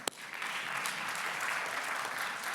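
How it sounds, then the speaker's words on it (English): An audience at a panel on antiracist healthcare claps together, a sustained, even patter of many hands heard at a moderate distance with no talking. "we need to clap for you"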